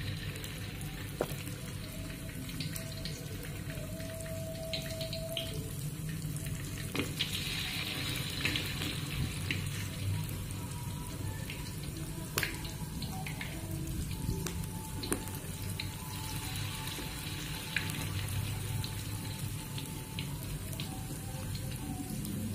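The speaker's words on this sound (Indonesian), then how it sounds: "Lalu saya goreng menggunakan api yang sedang" Vegetable fritters (bakwan) frying in hot oil over medium heat, a steady continuous sizzle and crackle with occasional sharper pops, close and even in level throughout, with no talking.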